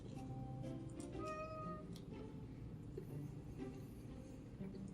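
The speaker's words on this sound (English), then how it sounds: "if you hear the meowing, that's what it is" Soft, distant cat meows come and go over a constant low background drone, several brief cries with no talking.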